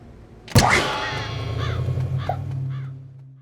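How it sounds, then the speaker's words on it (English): A single sharp gunshot cracks out, followed by a long ringing decay as several crows caw in the distance, their calls repeating over the fading echo. "Chigurh is busy shooting at crows for some reason"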